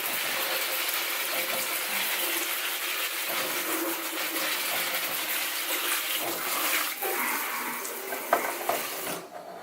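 Tap water gushes in a steady, close rushing stream as a houseplant's leaves are hosed down, continuing unbroken with slight splashing changes throughout.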